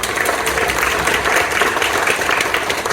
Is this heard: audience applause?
yes